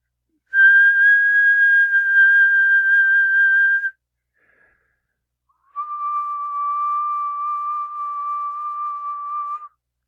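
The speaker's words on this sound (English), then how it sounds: "whistles are a nice clean sine wave" Two clean, steady synthesized sine-wave whistle tones, each held for about three seconds with a short pause between; the second is pitched lower than the first.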